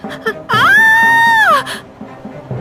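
A woman's loud, sustained scream in a Hindi horror story, rising sharply, holding steady for about a second and then falling away, with low background sound before and after.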